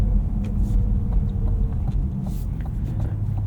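A 2024 Cadillac CT5 V-Series Blackwing rolling over icy, snowy Southeast Michigan roads, heard from inside as a steady low rumble of engine and road noise with faint clicks, no talking.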